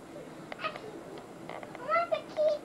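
A house cat gives a few short meows, the clearest two near the end, fairly close and moderately loud, mixed with brief bursts of voices from people and a child in the room.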